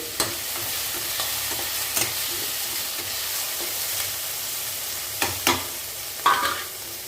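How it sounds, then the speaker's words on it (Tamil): Onions sautéing in a pan for a Chennai-style vada curry give a constant near sizzle, punctuated by regular spoon scrapes and a few louder clanks against the pan, with no voices. "நல்லா வெங்காயம் வதங்கி வரட்டும்"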